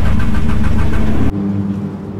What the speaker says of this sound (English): It turns over, but it won't start.